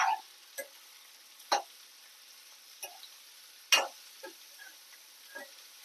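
Sliced ridge gourd frying in a pan, heard as a faint background hiss broken by scattered sharp ticks and stirring clinks, several irregular taps spaced about a second apart, with no talking.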